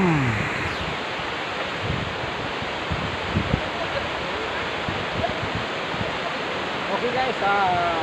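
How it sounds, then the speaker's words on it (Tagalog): A long creek flows steadily in an outdoor setting on the way toward a mountain, a broad continuous rush of water heard close and loud, with faint scattered sounds over it and no talking. "Ang haba pala itong sapa na ito."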